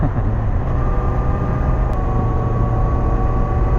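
A loud, close motorcycle engine roars continuously, a dense rumbling drone that stays steady at full volume with no talking.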